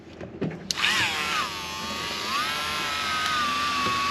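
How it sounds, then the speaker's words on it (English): A power drill spins up with a mixer paddle stirring epoxy, a sustained whining hum that wavers in pitch as the load shifts, preceded by a few knocks and clatters. "what are you mixing? Epoxy."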